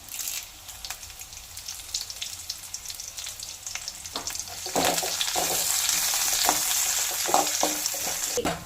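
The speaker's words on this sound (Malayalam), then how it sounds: "ഇതിൻ്റെ എല്ലാം നല്ല റോസ്റ്റ് സ്മെല്ല് മാറുന്നത് വരെ നമുക്ക് നല്ലപോലെ ഇളക്കി കൊടുക്കും." Ginger, garlic and curry leaves crackle and sizzle in hot oil for a chicken curry, the frying swelling louder partway through as repeated stirring scrapes and taps sound close by.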